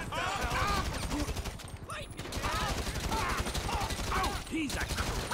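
Rapid bursts of gunfire from the video game Grand Theft Auto V rattle in dense rolling volleys, loud and continuous, mixed with game voices talking over the shooting.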